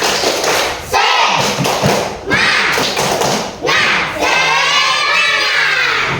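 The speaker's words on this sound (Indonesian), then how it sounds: "Ayo, tepuk semangat." Children in an Indonesian classroom perform the tepuk semangat clapping chant, loud rhythmic claps and thumps in repeated bursts with shouted chanting voices and a teacher leading.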